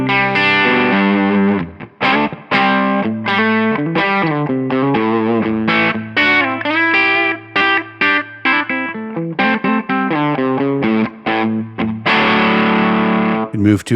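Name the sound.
distorted electric guitar through amp simulator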